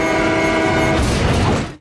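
A train roars close by with its horn blaring in a sustained, loud blast over heavy rumbling rail noise, ending abruptly, in a film scene with no talking.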